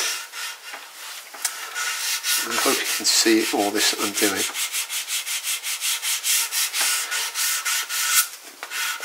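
Light hand sanding of a PRS-style kit guitar's wooden body using 400-grit paper, close rhythmic rubbing strokes that continue steadily while someone speaks briefly in the middle.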